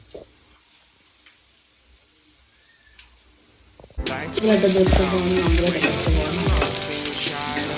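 Fish pieces dropped onto a hot tava burst into loud, steady frying and sizzling after a few seconds of quiet kitchen sounds, with faint clinks along the way.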